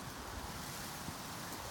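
Steady, gusty wind rushes outdoors on a windy Southern California day, a continuous broadband roar buffeting close to the microphone, with no voices.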